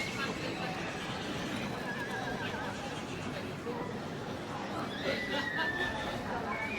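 A horse, a foal in the main ring at the Royal Welsh Show agricultural event, neighs clearly over steady crowd babble and background hubbub.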